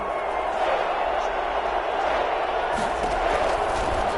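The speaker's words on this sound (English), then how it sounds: "Crowd getting in it a bit already" Stadium crowd at an NFL game, New York Giants at Minnesota Vikings, building noise before a third down: a continuous, loud, broad roar of many voices.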